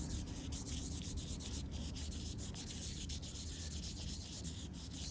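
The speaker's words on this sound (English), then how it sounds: "cleaning up some knobs. Taking some wet sandpaper and" Wet sandpaper rubs down old car knobs from a 1955 Chevy armrest job in a steady, soft, continuous scraping hiss, close and unbroken with no voices.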